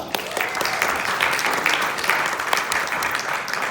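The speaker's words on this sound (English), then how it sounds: "Give yourselves a round of applause" Lecture audience at a vegetarian society talk applauds, dense and even clapping from a roomful of people that carries on steadily for several seconds.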